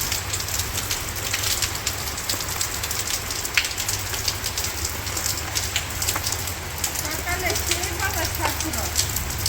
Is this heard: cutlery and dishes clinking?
no